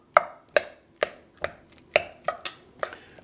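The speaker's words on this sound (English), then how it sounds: "I'm using a spoon here to try and break up the avocado" A spoon mashing avocado for guacamole, giving eight crisp, evenly spaced knocks against the bowl at a steady rhythm, close and clear with no talk.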